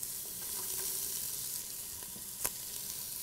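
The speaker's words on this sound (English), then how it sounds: "The first ingredient we're going to add is 1 medium onion chopped. You're going to add that to the olive oil" Chopped onion sizzles in hot olive oil in a skillet, a dense, steady crackling fry with a faint clink or stir near the end, and no one speaking.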